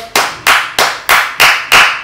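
Slow, deliberate hand claps ring out one after another, about seven sharp, evenly spaced strikes with short decays, close and fairly loud with no talk over them.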